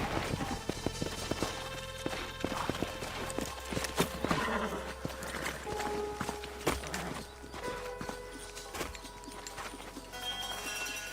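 Horses in the western video game Red Dead Redemption, with hooves clip-clopping and a neigh among game ambience, fairly faint beside voices and other background sounds.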